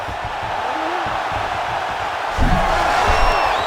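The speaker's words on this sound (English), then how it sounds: "big pop from the crowd as they get back to their feet after a pretty scintillating grappling battle there on the ground" An arena crowd in EA Sports UFC 5 lets out a swelling roar partway through, rising over a steady background murmur of spectators.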